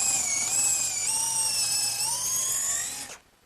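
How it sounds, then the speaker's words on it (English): An electric drill fitted with a larger bit enlarges a pilot hole in wood for a drop leaf table, giving a steady, high motor whine that wavers slightly in pitch before cutting off abruptly near the end. "to do that, I'm just going to use a larger bit in the drill"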